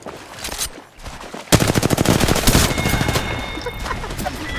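Rapid automatic gunfire rings out in Apex Legends, a sustained burst of sharp shots after a quieter opening, followed by lighter continued firing and faint game effects.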